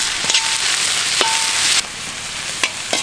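Onions and curry leaves fry in groundnut oil with a steady close sizzle, punctuated by a few short clinks of a stirring spoon against the pan.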